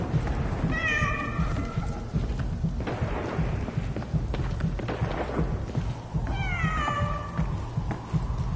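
A frightened cat outdoors gives two drawn-out, wavering meows a few seconds apart, heard against a steady rumbling backdrop like rain and thunder, with no speech.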